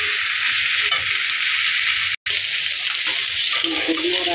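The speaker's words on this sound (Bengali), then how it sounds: "এবার ভালো করে ফুলকপি আর আলু ভেজে নেব।" Cauliflower and potatoes frying in a pan, a loud steady sizzle with occasional stirring scrapes that continues almost unbroken.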